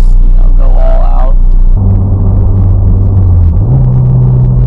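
A Toyota MR2 engine drones and rumbles loudly from inside the cabin, its pitch stepping up as it accelerates while driving.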